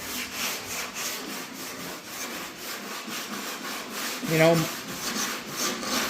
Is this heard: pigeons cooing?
no